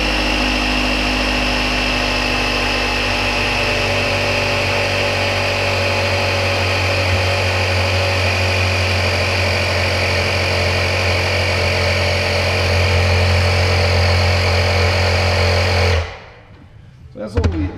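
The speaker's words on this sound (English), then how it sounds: "the little air compressor we got here" A small air compressor runs steadily while inflating an aircraft tyre, giving a continuous motor drone with a strong low hum that holds for about sixteen seconds, then cuts off abruptly, leaving near silence.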